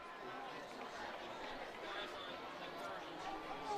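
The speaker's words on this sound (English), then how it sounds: "Rockin' crowd here." A crowd at a Saturday night high school football game, King vs Poly at a neutral site, murmurs as a distant, steady babble of stands filling up, heard faintly beneath close commentary.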